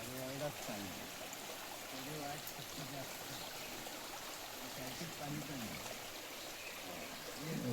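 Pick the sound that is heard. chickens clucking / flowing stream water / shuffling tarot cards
flowing stream water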